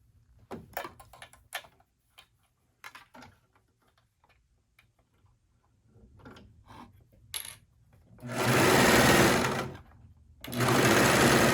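A sewing machine stitches across the short ends of a leggings waistband, two loud continuous bursts near the end after quieter clicks, taps and fabric handling.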